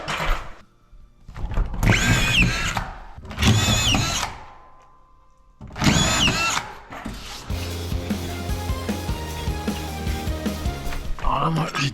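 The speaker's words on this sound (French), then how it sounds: "je vais commencer à visser là-haut" Drill screws plasterboard onto a wall in three strong bursts, then gives a longer steady whir. Someone speaks over the later part.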